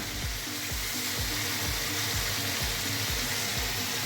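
Eggplant with spices sizzles steadily in a hot pan after water is poured in, a loud continuous frying hiss with periodic low thumps of stirring, no voices.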